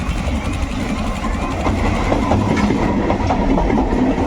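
A railway track tamping machine moves along the line near a station, giving a steady heavy rumble with rhythmic clattering and an engine drone throughout, close and loud.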